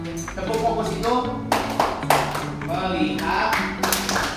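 A school class in Indonesia does a patterned 'tepuk fokus' clapping rhythm while voices chant along, the sharp claps landing in repeated bursts over the talking.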